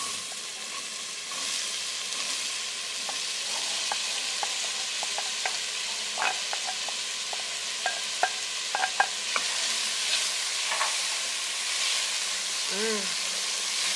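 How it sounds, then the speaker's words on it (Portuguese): Red onion fries in a pan with spices, giving a steady soft sizzle and hiss while a utensil stirs and taps now and then; voices can be heard faintly in the background. "add in the onion until it softens up"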